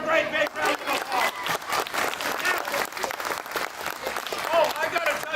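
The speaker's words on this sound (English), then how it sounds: "give her a great big round of applause" An audience breaks into sustained applause, a dense, steady wash of clapping from many hands at close range, with voices mixed in throughout.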